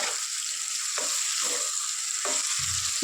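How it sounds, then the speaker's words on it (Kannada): Brinjal frying in oil for a wedding-style palya, a dense, steady hiss of sizzling close up with a few soft stirring scrapes, no speech. "ಎಲ್ಲನೂ ಮಿಕ್ಸ್ ಮಾಡ್ಕೊಂಡಿದ್ದೀನಿ ಇವಾಗ ಚೆನ್ನಾಗಿ ಎಣ್ಣೆಲೆ ಫ್ರೈ ಆಗಲಿ ಸ್ವಲ್ಪ ಹೊತ್ತು"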